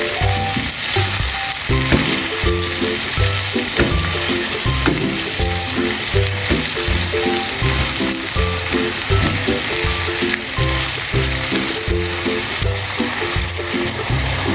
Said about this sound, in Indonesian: Kemudian kita aduk supaya tercampur.